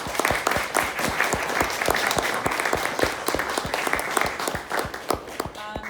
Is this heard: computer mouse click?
no